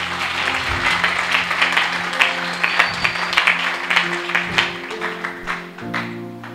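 A congregation applauds at a good-news gathering, a lively patter of many hands rising and falling in waves, close and fairly loud, with faint musical tones sustained underneath.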